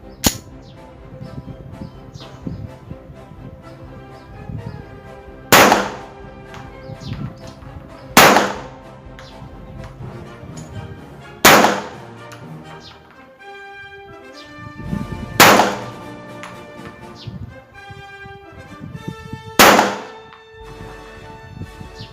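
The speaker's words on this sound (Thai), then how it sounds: "อีก 5 นัดในระยะเดิมนะครับ เป้าเดิมนะครับ" A CZ 75 B Omega 9mm pistol fires five loud, sharp shots at a target, spaced a few seconds apart with ringing decay after each, amid faint range background.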